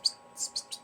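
Goldfinch chick calling: four short, high, thin chirps, the second longest, close and fairly clear over a quiet background.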